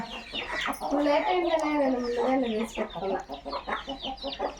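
Chickens cluck close by with a run of drawn-out, rising and falling calls followed by shorter choppy clucks over a low rumble of background noise.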